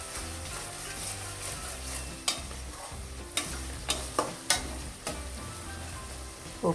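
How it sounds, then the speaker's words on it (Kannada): Shredded cabbage being stirred and fried in oil for vegetable fried rice, a soft continuous sizzle punctuated by several sharp spatula scrapes and knocks against the pan, close and without voices. "ಇದನ್ನು ಸ್ವಲ್ಪ ಎಣ್ಣೆಯಲ್ಲಿ ಫ್ರೈ ಮಾಡ್ಕೊಳ್ಳಿ."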